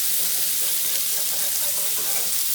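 A burger patty sizzles on the grill as its outer edges crisp up, with a steady, continuous hiss and fine crackle held at an even level throughout, no voices.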